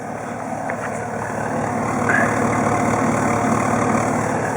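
A 1958 Chevrolet Bel-Air engine, freshly fitted with new ignition parts, idles steadily and close up, a smooth even rumble that rises slightly partway through.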